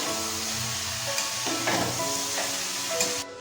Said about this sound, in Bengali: এর মধ্যে দিয়ে দেবো জল ঝরিয়ে রাখা চাল। সব কিছুকে ভালোভাবে মিশিয়ে নেব।